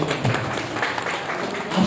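An audience clapping at a cultural troupe event, a dense wash of applause filling the short stretch at steady volume.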